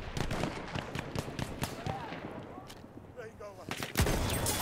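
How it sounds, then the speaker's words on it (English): Gunfire crackles through a Battlefield 1 match, with sharp sniper rifle shots and other distant reports popping irregularly amid battlefield noise, fairly quiet and close. "This is probably my favorite sniper in this game."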